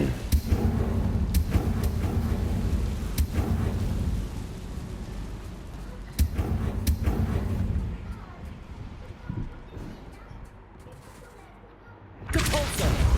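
The Confringo fire spell blasting in Hogwarts Legacy, a series of loud, rumbling explosive bursts and crackling impacts amid game noise, easing off before another burst at the end.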